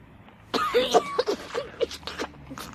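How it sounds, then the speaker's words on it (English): A series of rough, throaty coughs close by, several short bursts in a row over a faint background hum. "Nasty cough of yours"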